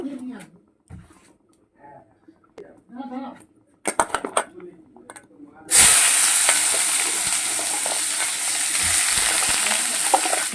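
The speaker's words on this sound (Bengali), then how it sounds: "কড়াটা গরম হয়ে গেছে বিট আর আলুটা ভেজে নেব" Potato and beetroot hit hot oil in a wok with a sudden loud sizzle that keeps frying steadily. Before it come clinks of pots and utensils and someone speaking.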